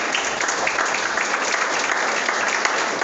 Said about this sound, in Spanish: Un aplauso al Señor por la vida de Neidy.